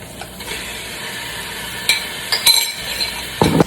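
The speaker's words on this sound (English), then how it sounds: "now you can hear it, the noise has come back up. That means the water from the pork has been evaporated and now it's sizzling" Pork and vegetables sizzle in a hot pan, a steady crackle with occasional louder bursts and clinks of a utensil stirring, close and alone without talk.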